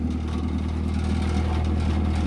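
A turbocharged Honda Accord with an F23 engine and a large vacuum leak idles just over 1,000 rpm, giving a steady, close, even low hum with a faint mechanical clatter on top.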